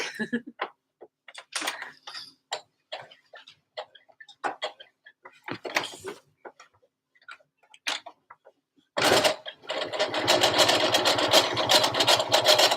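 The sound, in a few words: sewing machine stitching a dress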